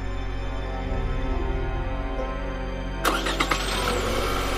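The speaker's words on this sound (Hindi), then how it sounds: "उस रात हम गाड़ी लेकर निकल गए।" A car engine turns over and settles into a low, steady idle, then a sharper burst of mechanical noise follows as it pulls away; fairly close and heard alone, with no speech.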